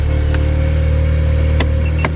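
A car engine idles steadily right after being started, a low continuous hum held level throughout with a couple of faint clicks.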